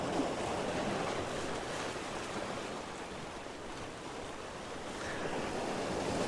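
Ocean water surges through a narrow gap along the shore at 1770, Queensland, Australia, making a continuous, fairly soft wash of surf that swells and recedes, with wind buffeting the microphone and no talking.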